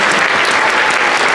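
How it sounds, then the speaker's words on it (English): Loud, dense applause from a concert audience follows a brass quartet's performance, a steady wash of clapping that holds for the whole short stretch without voices. "Another round of applause for our brass quartet."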